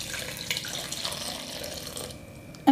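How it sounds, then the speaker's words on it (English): Steady stream of 3/4 cup of water pouring into a blender of grated coconut, a continuous close splashing rush that ends with a sudden clunk. "To extract the third coconut milk into the blender, I am adding in 3/4 cup of water."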